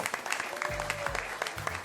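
A short burst of crowd applause linked to a comedic segment about San Benito in the Rio Grande Valley, with brisk, steady clapping lasting under two seconds.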